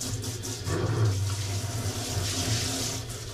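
Bath water runs steadily from a tap while a young child is rinsed off at bath time, a close, continuous gushing flow with no talking.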